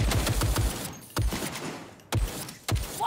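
Bursts of gunfire in the video game Cyberpunk 2077, a rapid volley of shots followed by several single loud cracks, dense and close amid continuous background game noise.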